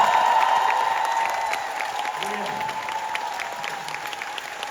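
At a curtain call for the final performance of Notre-Dame de Paris in Yeosu, the theater audience applauds and cheers for staff and dancers, a steady wash of clapping with brief spoken words over it.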